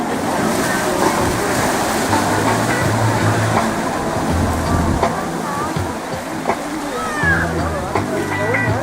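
Ocean waves wash and surge continuously on a beach at a currach boat launch, with people talking over the steady rush of surf.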